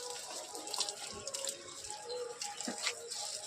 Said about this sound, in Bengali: আরও জল দিয়ে দিই, যে কালকে পুজো করতে একটু ভালো হবে, জল দেওয়া থাকবে।